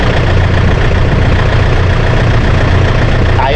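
Tractor engine idling steadily nearby during a rice harvest, a continuous low throbbing rumble with faint knocking that holds constant throughout.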